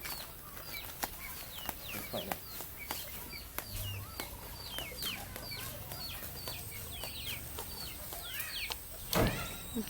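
Several chickens cluck and squawk in quick, irregular bursts over a quiet background, with a brief flurry of flapping near the end.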